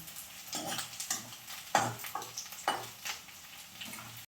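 Dried red prawns frying and being stirred in a pan, a soft sizzle under repeated scraping and clinking strokes of a utensil, close and moderately loud, without speech.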